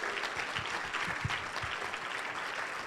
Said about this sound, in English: Please give Tim Mueller a round of applause as we welcome him to the stage.